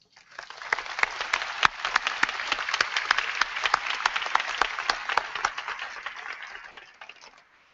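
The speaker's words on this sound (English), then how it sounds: "Let's give them all a round of applause." A plenary audience at a Friends General Conference gathering at a California university gives a sustained round of applause, dense clapping swelling quickly and holding steady for several seconds before tapering off at the end.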